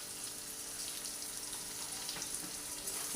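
Oil sizzles steadily in a pan of potato poha as asafoetida goes into the tempering, a soft, continuous frying hiss with no talk.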